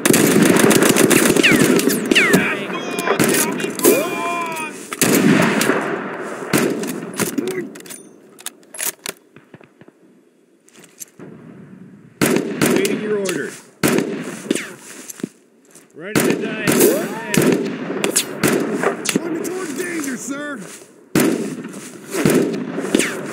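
Rapid bursts of automatic gunfire and single shots from the war video game Mud and Blood, set in hedgerow fighting, crackle loudly in dense clusters with brief gaps, while voices talk over the shooting.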